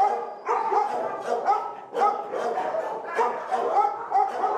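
Several dogs bark and yip in shelter kennels, a close chorus of repeated barks with overlapping voices and some whimpering, continuing throughout.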